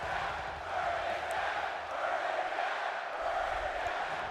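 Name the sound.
crowd chanting in WWE 2K22 video game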